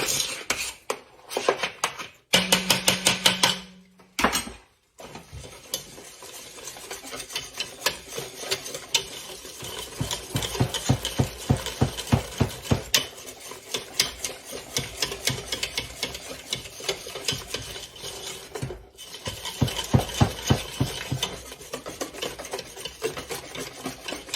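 A hand whisk beats caramel icing with powdered sugar in a bowl, making rapid rhythmic scraping strokes that run almost continuously after a few short starts and pauses.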